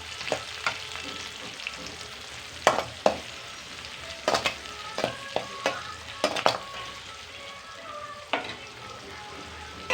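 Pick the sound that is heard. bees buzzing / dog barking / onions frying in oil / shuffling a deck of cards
onions frying in oil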